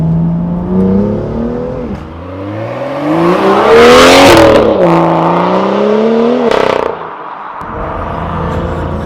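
A BMW M2 with a full IPE aftermarket exhaust revs hard several times, pitch climbing and falling with loud aggressive exhaust roar and sharp crackles between revs.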